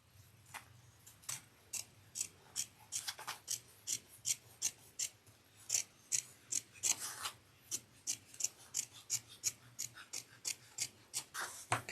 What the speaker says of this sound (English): we're going to trim away the main lining layer